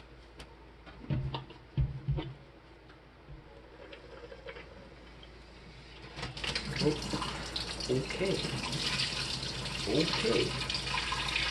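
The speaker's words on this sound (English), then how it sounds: "we're going to pour out any of the extra water that hasn't froze yet from the bottom of the cooler out into the sink" Leftover unfrozen water poured from the bottom of a cooler into a kitchen sink; a steady, close splashing rush builds partway through after some scattered clunks and a brief spoken word.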